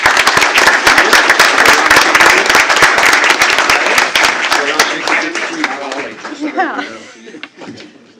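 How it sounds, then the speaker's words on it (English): Applause fills a school board of trustees meeting, a loud, dense sustained clapping from the audience that slowly thins and fades over several seconds, with voices emerging near the end. "Let's give these 3 a big round of applause."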